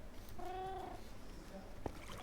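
A cat meows in the Minecraft video game: one drawn-out, tonal mew, moderately clear against a faint background hum, followed by a short quieter chirp and a brief click.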